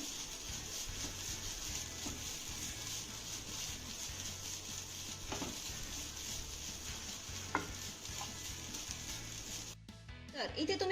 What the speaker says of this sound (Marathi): हे किसलेलं खोबरं आपल्याला सुक्क होईपर्यंत चांगलं परतून घ्यायचंय आहे